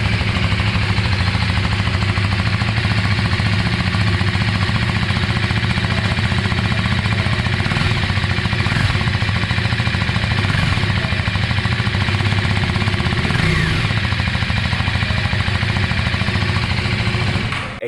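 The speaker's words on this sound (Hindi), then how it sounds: "एग्जॉस्ट नोट मेरी तो फेवरेट नहीं है, पर डिजाइन मुझे अच्छी लगी।" A KTM Duke 390 motorcycle, 2024 model, runs with a steady, loud, gravelly engine and exhaust note throughout, unbroken and close, with no talking.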